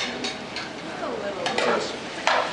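Vegetable stir fry sizzling in a hot pan, with scraping spatula strokes and light clinks of utensil on metal, close and brief.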